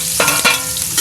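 Onion drops into hot oil already frying garlic for a kaldereta, a brief loud sizzle with a couple of stirring scrapes.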